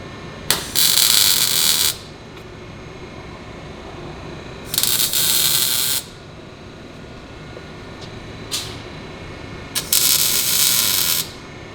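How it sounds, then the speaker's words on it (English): A muffler tailpipe being tack welded in place, heard as four separate short bursts of harsh, crackling buzz at close range, each lasting about one to one and a half seconds, with quieter workshop hum between them. "while Zach will give us some tack welds to lock it in place"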